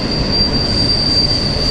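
Train wheels grind out a steady, piercing high squeal near a large rail yard by the Tug River in the Appalachian Mountains, loud and continuous over a rumbling undertone, with no voices.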